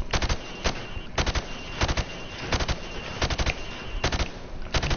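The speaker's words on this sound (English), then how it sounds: "I want you to shoot the targets through the wood." Gunfire in Battlefield 1 hits pop-up targets, loud rapid bursts repeating in a steady rhythm about every half second to second, with nothing else heard between them.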